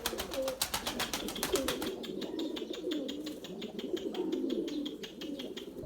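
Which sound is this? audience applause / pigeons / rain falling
pigeons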